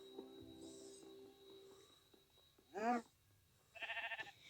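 A single bleat of a sheep in a video game, followed a second later by a rapid, wavering second bleat, over quiet background hum and soft clicks.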